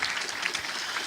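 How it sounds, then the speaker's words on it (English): An audience at a curriculum alignment session gives a short round of applause, a brief, even patter of clapping hands heard alone at moderate distance. "Can we applaud her?"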